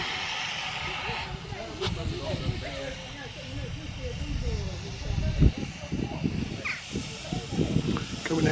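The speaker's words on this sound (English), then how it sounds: "this first train is a steam one" A steam train eases into a heritage railway station on the West Somerset Railway, soft hissing steam and low rumbling over a continuous background, with someone talking throughout.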